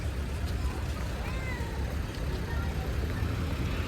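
A cat meows a few times amid a constant rumbling background, with people talking nearby.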